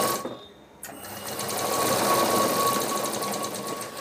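A sewing machine stitches a folded hem on a potli bag. After a short pause near the start, it runs with a close, steady rapid chatter of needle strokes.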